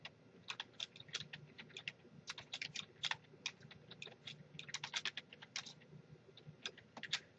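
Close-up clatter of computer keys being typed in irregular bursts, steady for several seconds with short gaps.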